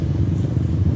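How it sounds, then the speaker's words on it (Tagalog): Motorcycles rolling past in a mobile parade along a city boulevard, a steady low engine rumble with no distinct single pass, close and continuous. "mobile parade sa mga motor"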